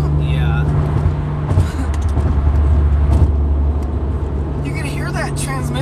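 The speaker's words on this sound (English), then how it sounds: "You can hear that transmission like right here, and it's just like it's whining" Car transmission whining steadily while driving, a sustained tonal hum over constant low road rumble, with people talking in the cabin throughout.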